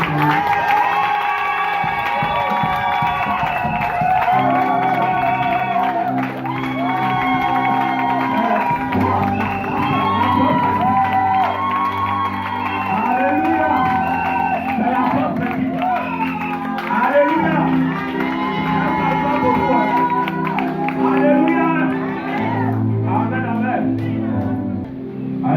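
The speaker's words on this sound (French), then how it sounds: "On acclame Jésus pour mon épouse." A church congregation cheers and acclaims, with sustained shouting, whooping and clapping from a large crowd while amplified music carries steadily underneath.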